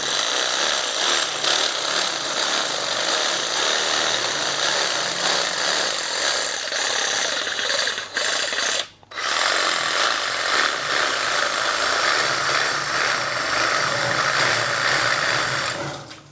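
A DeWalt battery reciprocating saw fitted with an aggressive wood bit cuts through hog bone, a loud continuous buzzing rasp that drops out for a moment midway and then resumes steadily to the end.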